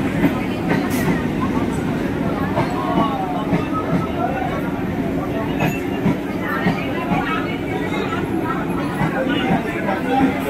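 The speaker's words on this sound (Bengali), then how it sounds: "এখন আমাদের ট্রেন চলে এসছে। এই ট্রেনটা যাবে শেওড়াফুলি পর্যন্ত।" A local train bound for Sheoraphuli rolls along with a constant loud rumble and faint rhythmic clatter of wheels, and voices can be heard beneath the noise of the carriage.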